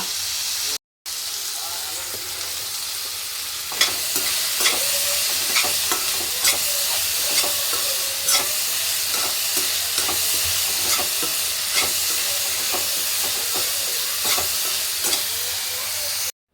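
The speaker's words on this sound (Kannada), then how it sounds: "ನಾನು ಆಲ್ಮೋಸ್ಟ್ ಟೊಮ್ಯಾಟೊನೆಲ್ಲ ಸ್ಮ್ಯಾಶ್ ಮಾಡ್ತಾಯಿದ್ದೀನಿ" Tomatoes being mashed and stirred with vegetables in a frying pan, a steady sizzle with repeated scraping strokes of the spatula running nearly throughout, close and fairly loud.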